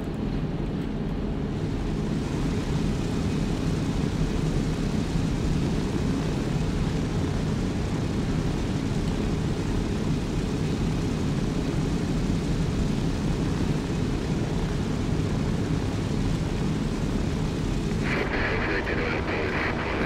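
A firefighting aircraft in a video game roars with a steady, loud engine drone, broad and rumbling throughout, with a brief change in texture near the end.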